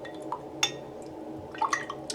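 Paintbrush rinsed in a container of dirty water during watercolor painting, giving soft drips and small sloshing splashes with a couple of brief clinks against the container, close and quiet.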